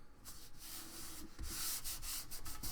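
Paper glued with liquid glue is rubbed down by hand in quiet short strokes, a soft dry scratchy swishing heard alone and close.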